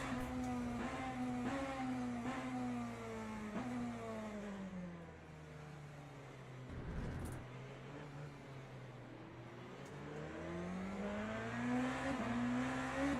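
A race car engine in a racing video game at Monza revs up through repeated gear shifts, its pitch climbing and dropping in a rhythmic sawtooth, loud and steady with a brief lift-off midway.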